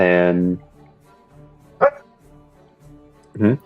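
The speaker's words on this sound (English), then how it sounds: "Oh, yeah, that was my dog barking." A pet dog barks in the background of a home, three short barks spaced about a second and a half apart, the first loudest and mixed with a voice, the later ones sharper and more distant.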